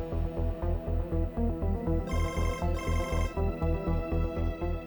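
A telephone rings in a steady repeating pattern of pulsed electronic tones, about four rings per second, fairly quiet and with no voices.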